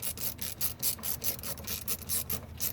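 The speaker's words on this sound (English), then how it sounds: "And I start slowly tightening the nut." Steady, close rasping and rubbing from a wrench slowly tightening a nut on a Subaru pedal assembly during a GC to GD pedal swap, repeating in a regular rhythm with no talk.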